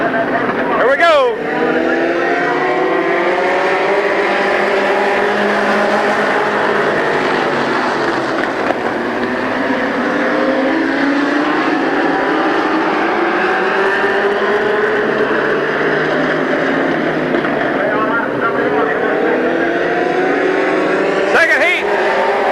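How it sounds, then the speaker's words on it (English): Race cars thunder around Midvale Speedway in a continuous loud roar of engines that swells and fades as the cars pass, and a voice can be heard over the racing noise. "So all kinds of racing action here at Midvale Speedway."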